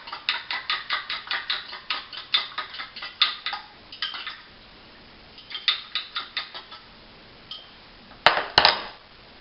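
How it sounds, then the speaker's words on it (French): Egg being whisked into pastry dough in a bowl, with rapid rhythmic clinks and ticks of utensil against the bowl in bursts, pausing and resuming, close and fairly faint, ending with a few sharper knocks. "Je vais juste mélanger un petit peu pour mélanger mon œuf."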